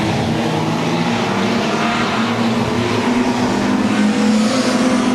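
Race cars roar loudly and steadily down the back straight of a circuit in the final lap of a race, several engines blending into one continuous, sustained drone.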